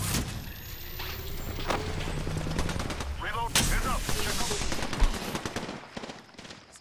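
Automatic weapons fire in Apex Legends bursts out in rapid, sharp volleys, close and loud, mixed with other combat effects and occasional brief in-game voice lines.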